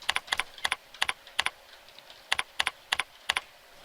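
Login credentials typed on a computer keyboard, a close crisp burst of about a dozen quick keystrokes in two clusters separated by a short pause.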